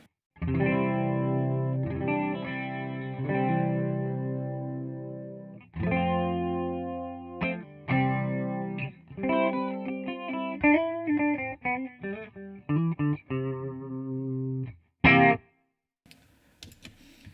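Electric guitar notes and chords with a shimmering, wavering chorus effect, played alone in phrases with brief pauses, ending in a short sharp burst.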